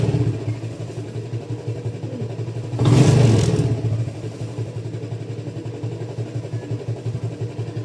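Warmed-up Yamaha LC135 motorcycle engine ticking over at a steady idle, then revved once in a loud burst lasting about a second before settling back to idle.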